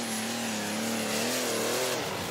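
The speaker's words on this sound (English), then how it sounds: "This tractor is running on methanol," A methanol-fuelled pulling tractor engine revs hard and continuously at an agricultural show tractor pull, its loud droning note rising and wavering in pitch as it strains down the track.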